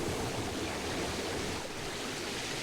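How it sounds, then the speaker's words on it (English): Water gushing and spurting from the fallen Terra Tower into the sea in Chrono Cross, a steady broadband rushing wash that holds loud and even throughout with no talk. "And water starts spurting out of it."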